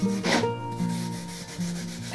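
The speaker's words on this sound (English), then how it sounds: "I'm just going to burnish this on the surface." Boiled linseed oil is worked into the surface of a 100-year-old wooden level with steady rubbing and burnishing strokes, a soft, close, continuous scrub with no talking.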